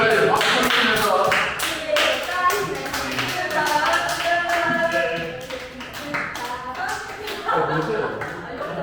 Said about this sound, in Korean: 얘들아 빨리 박수 치면서